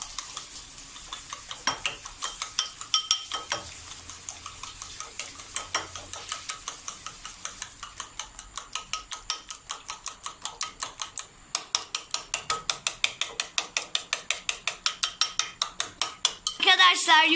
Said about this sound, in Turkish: yoğurtla yumurta özdeşene kadar iyice çırptık.